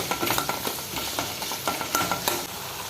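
Vegetables being sautéed in a pan for a Kerala amaranth-stem pulungari curry, with a steady close sizzle broken by repeated scraping stir strokes throughout, and no voices.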